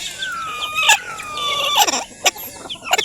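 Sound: chickens clucking on farm

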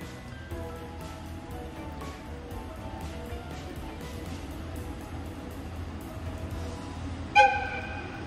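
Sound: train arriving at station platform

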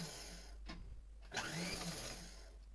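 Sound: sewing machine running a straight stitch on a top

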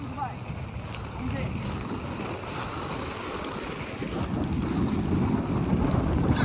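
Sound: wind blowing outdoors

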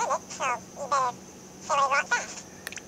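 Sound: recorded voice with parrot effect, Nintendo 3DS Sound

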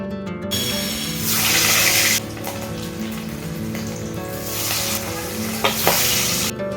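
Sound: hilsa fish frying in a pan

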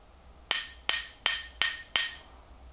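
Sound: handling WWI amputation kit bone hammer

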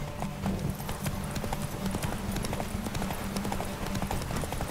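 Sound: horse galloping hooves in video game The Witcher 3

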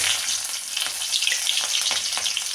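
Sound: curry leaves and green chili sizzling in hot oil

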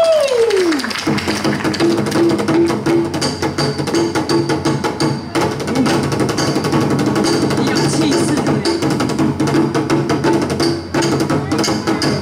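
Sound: drum performance

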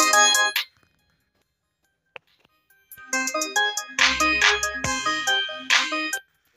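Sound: song played through OnePlus Wireless Z Bluetooth earphones

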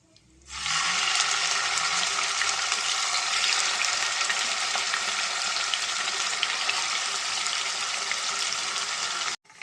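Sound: chicken legs frying in oil

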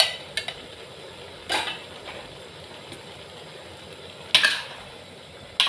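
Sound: stir-frying sweet and sour dish with spring onion and chili

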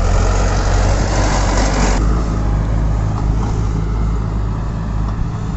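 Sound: YTO EF 804 tractor engine running

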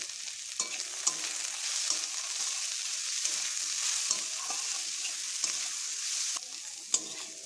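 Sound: frying beans and carrots in a pan

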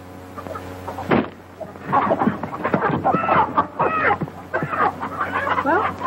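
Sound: chickens clucking

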